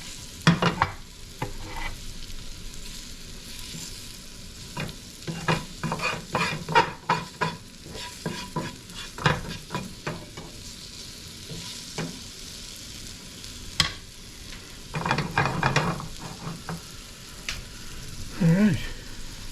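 Morel mushrooms frying in a pan, a continuous close sizzle broken by frequent stirring and scraping strokes, with a few louder pops and bursts.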